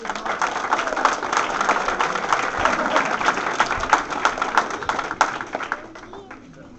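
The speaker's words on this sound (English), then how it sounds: "Let's give Miss Caitlin a big round of applause." Applause from an audience at a gathering fills the space with dense, steady clapping that rises and holds before thinning out toward the end, with voices mixed in.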